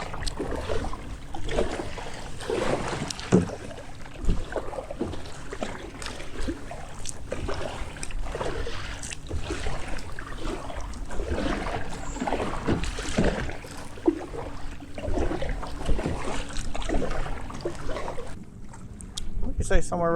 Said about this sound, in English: All right, let's paddle out here a ways.